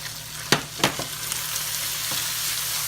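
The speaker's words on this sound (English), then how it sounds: "I'm going to cook my corn mixture for just a second, just to get the rawness out." Corn mixture with jalapenos cooks in a skillet for sausage cornbread, giving a steady close sizzle broken by a few sharp clinks or stirring scrapes near the start.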